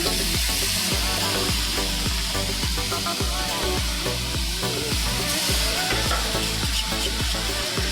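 Washed rice goes into a hot pan on a low gas flame for a one-pot veg pulao, giving a steady, loud sizzle with repeated scraping and stirring knocks throughout.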